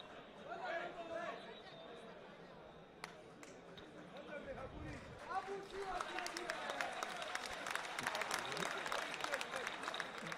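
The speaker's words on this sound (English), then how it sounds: "The KANO Pillars goalkeeper there just taking the applause of the fans." Football fans in a Nigerian league stadium applauding the Kano Pillars goalkeeper as he walks off, a distant, faint spread of clapping and crowd noise that swells toward the end, heard under a commentator's voice.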